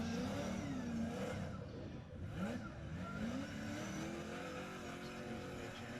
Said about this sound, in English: Warming up his tyres for his next battle in the top 4